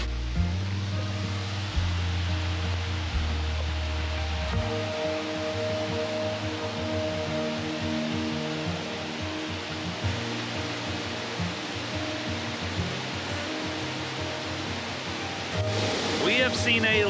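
A waterfall along a hiking trail in the Upper Finger Lakes gives a steady broadband rush, with low-pitched tones and a brief rise in noise near the end.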